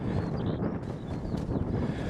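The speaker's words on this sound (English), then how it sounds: "It's a bit windy, so I don't know if you're going to hear me or not" Wind buffets the microphone on a rainy walk in the Quantock Hills near Halsway Combe, a continuous loud rumbling roar with gusty fluctuations and no voices.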